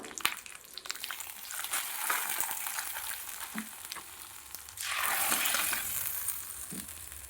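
Hot tempering poured into Kerala-style pumpkin pachadi curry, giving a steady crackling sizzle that swells louder midway and keeps hissing, with faint clinks of a spoon against the pan.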